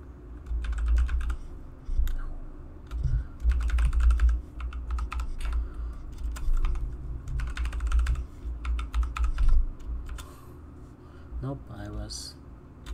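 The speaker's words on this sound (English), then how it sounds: "we can type in a password" Fingers tap out a password on a computer keyboard while setting up a local Windows 11 user, giving irregular clusters of close, crisp keystrokes with pauses between them and low room noise underneath.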